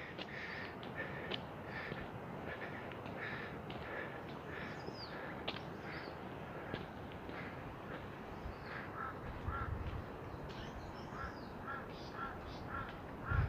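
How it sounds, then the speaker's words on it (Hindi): Black crows caw repeatedly in a Kashmir village at Keran in Upper Neelum, their harsh calls recurring in uneven bursts over steady outdoor background noise. "कौवा काला होता है और सही काले कौवे हैं।"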